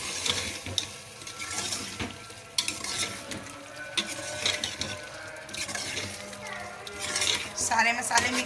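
A spoon stirs spices and tomatoes into mutton in a pot for a lauki gosht curry, with continuous scraping and clinking of metal on the pot over a soft sizzle, close and busy throughout.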